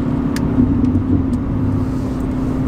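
A tuned 370 hp VW Golf 5 cruises at a steady speed, its engine drone and road rumble heard loud and continuous from inside the cabin.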